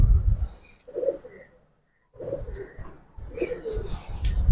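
Giribaz pigeons coo in low, throaty rumbling phrases, close by, with a short silent gap before the cooing resumes, faint chirps flicking above.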